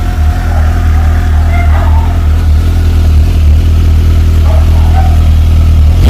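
A Suzuki GSX-R750 motorcycle idles close up near the exhaust, giving a loud, steady low engine rumble with mechanical clatter throughout.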